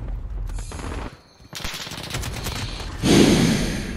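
Rapid automatic gunfire crackles loud and close in Call of Duty Modern Warfare 2019 multiplayer, bursts broken by a brief lull before a heavier barrage resumes, with no talking over it.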